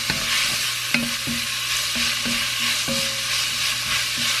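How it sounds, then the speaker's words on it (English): Vegetables with onion and celery for Bolognese sauce being stirred in a pot, a loud continuous sizzle broken by regular scraping strokes of a utensil about once a second, close up with no voices. "give those a good stir"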